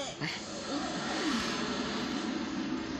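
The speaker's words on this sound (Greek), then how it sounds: "Γιατί βγήκαν έξω τα μαχητικά αεροσκάφη." Fighter jet engines roar steadily and loudly throughout, a sustained broadband rumble with a brief rising tone near the start.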